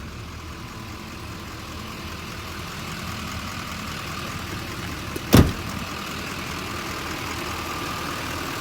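A 2012 Chevrolet 3500HD service truck with a 6.6 Duramax diesel idles steadily, a low even rumble that continues alone, broken by one brief knock partway through.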